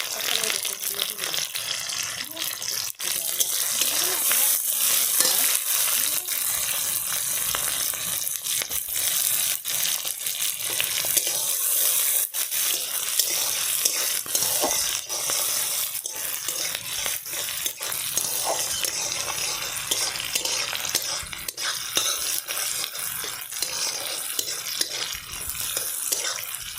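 Chopped onion and green chili fry and get stirred in hot oil for a country chicken red curry, a steady crackling sizzle with scraping stirs running throughout at even loudness.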